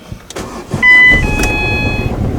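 Ford Fiesta diesel engine cranking and struggling to catch, a starter whir followed by a loud rough surge with a whining tone that settles into an uneven, labouring run, close up and alone.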